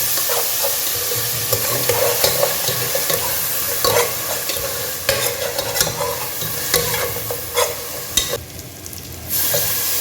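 Ginger garlic paste frying in hot oil for a mutton curry with drumstick and potato: a steady sizzle with scraping and stirring clicks throughout.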